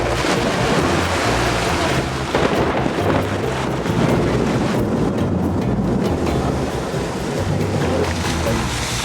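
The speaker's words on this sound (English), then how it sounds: "Had about 3 thunderstorms all converge around us, and these enormous gust fronts have just arrived with rain in the damn desert." Heavy rain and gusting wind from converging thunderstorms sweeping over a desert camp at the edge of the Namib Dune Sea, a dense, steady roar with low rumbling underneath that stays loud throughout.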